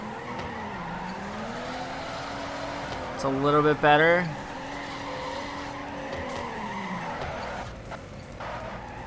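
A race car drifts in the Torque Drift game, with engine drone and a sharp, rising tire squeal that peaks briefly in the middle, and someone talks over it.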